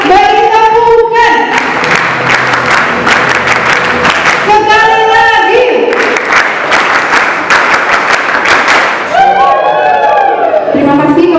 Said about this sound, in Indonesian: Mari kita beri tepuk bagi tabungan.